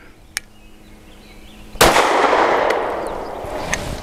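A single sharp, loud gunshot from an Arex Delta M OR Gen 2 pistol firing smoky steel-cased ammo cracks out, followed by a long fading tail; faint small clicks come before it.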